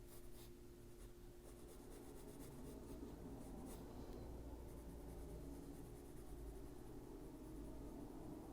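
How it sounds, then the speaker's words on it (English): Sharp-pointed black colored pencil shading on paper during adult coloring of a Christmas page, a soft continuous scratchy rubbing with faint strokes, quiet and close, no talk. "I have a very sharp point on this black pencil."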